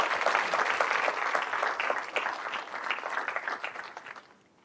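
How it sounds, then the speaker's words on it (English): Sustained audience applause at a university school's annual state address, a dense wash of many clapping hands that fades out near the end. "can we have a round of applause"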